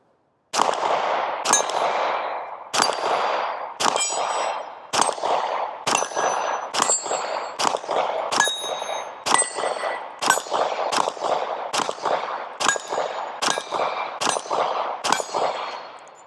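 A rapid string of about fifteen pistol shots from a Radian Glock 19 clone fitted with an afterburner barrel, each a sharp, close crack with a short ring-off, fired at an even rhythm.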